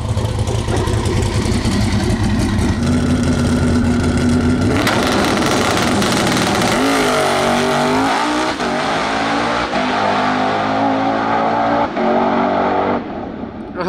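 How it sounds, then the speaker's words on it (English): A drag racing car does a tire burnout, its engine revving hard and loud with a rising roar and tire squeal across the whole stretch. "Nice spicy burnout."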